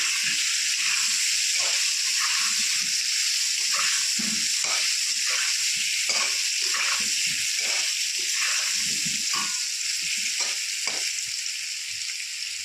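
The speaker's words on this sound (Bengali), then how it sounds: "আমি ভালো করে আলুটা লাল লাল করে ভেজে নেব" Potatoes fry with turmeric in hot oil, giving a loud, continuous sizzle and hiss with occasional stirring and spattering throughout, with no voices.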